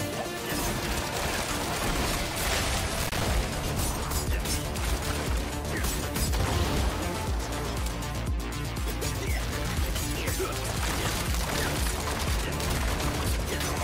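Rapid ricochet attack in Diablo IV, a dense continuous spray of gunfire-like impacts and crashes, loud and sustained throughout, with game effects layered underneath.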